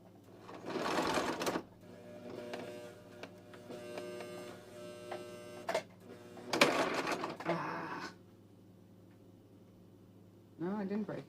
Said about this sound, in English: This isn't a very good sewing machine